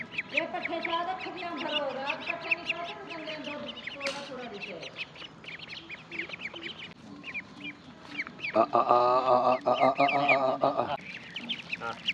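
Ducks and other poultry at a village bird camp quack and call repeatedly throughout, a dense, fairly close chorus with a louder burst of squawking near the end, while a voice is heard speaking over them.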